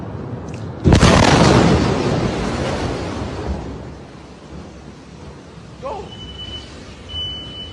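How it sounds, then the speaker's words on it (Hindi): An Iranian missile strikes in Tel Aviv with one sudden loud blast that rolls into a long rumbling decay, followed by a brief distant shout and faint high electronic beeps. "लगातार ईरान की कई मिसाइलें तेल अवीव में गिर रही हैं।"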